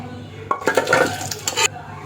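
Metal pot and utensils clink and clatter for about a second as green gram and pumpkin curry is poured from one vessel into another, close by.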